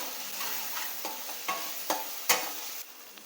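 A soft sizzle of tomatoes with turmeric frying in a pan, broken by a few sharp scrapes and taps of a spoon stirring, spaced about every half second.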